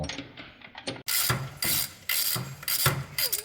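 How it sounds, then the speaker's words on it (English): A hand ratchet clicks in quick bursts, loosening the bolts on the hog's head of a Ford Model T engine in a garage, with several close, crisp runs of clicking separated by short pauses. "We're currently removing the bolts to remove the hog's head."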